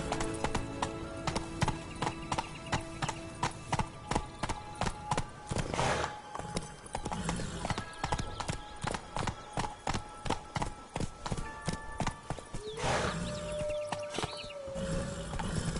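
Roach, the horse in The Witcher 3, gallops with a quick, regular clip-clop of hooves that runs the whole way through. Gear rattles and a couple of brief whooshing swells sit over the hoofbeats.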